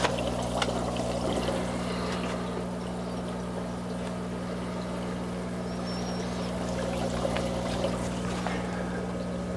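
Water flows through a line into a hydroponic RDWC reservoir for a grow tent, a steady trickling pour over a constant low pump hum, continuous and moderately close.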